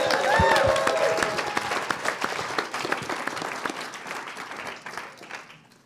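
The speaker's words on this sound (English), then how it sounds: "One more big round of applause for Susan." Audience applause for a speaker at an evening event, a lively crowd clapping that starts strong over a brief voice and gradually thins and fades.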